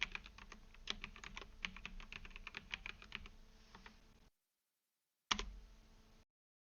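Admin credentials being typed on a computer keyboard: a quick, close run of soft key clicks for about four seconds, a brief silence, then a short final burst of keystrokes.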